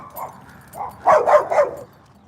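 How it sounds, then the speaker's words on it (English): A dog barks on a street walk in Madera, California, a quick burst of three or four close, loud barks after a softer yip, with little else around. "Whew, dog scared me."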